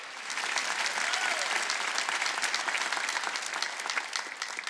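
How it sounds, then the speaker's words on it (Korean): A church congregation at a Wednesday worship service claps hands hard and steadily, a dense, even wash of many palms sustained throughout at moderate loudness, with faint voices mixed in. "박수 치려고 세게 치라고요"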